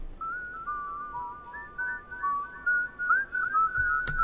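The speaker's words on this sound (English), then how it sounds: "this is the whistle that I got back from him" A single person whistles a flowing melody of sustained and gliding notes, clear and close, with a brief click near the end.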